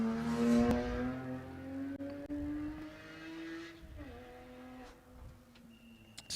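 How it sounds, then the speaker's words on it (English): A Porsche Cayman GT4's six-cylinder engine howls up through the revs at a hillclimb at Loton Park, then drops pitch as it shifts or lifts, passing close and loud before fading. "entering fallow and the 6-cylinder singing along, entering museum now"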